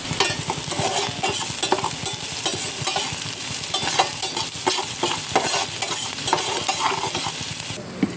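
Okra curry stirred and mixed in a hot pan with salt, for dahi bhindi: continuous frying sizzle broken by rapid, uneven scraping and clacking of a spoon against the pan, close and loud throughout, no voices.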